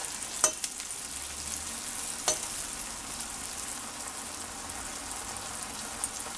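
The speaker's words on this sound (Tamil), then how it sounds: "அப்பத்தை ஊற்றும்போது எண்ணெய் ரொம்ப சூடாகாமல் இருக்கணும்" Karthigai appam batter fries in hot oil in a kadai with a steady close sizzle and bubbling, punctuated by a couple of sharp clinks, no talking.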